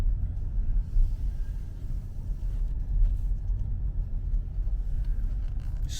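Car driving along a residential street, Duane Terrace, in light traffic, giving a steady low engine and road rumble heard from inside the vehicle, continuous throughout with no voices.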